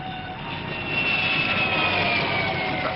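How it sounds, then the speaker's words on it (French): Jet aircraft roar past overhead in the French-dubbed Spectreman TV series, a loud continuous whooshing engine noise with a whining tone that swells and holds, no speech. "Revoilà les jets."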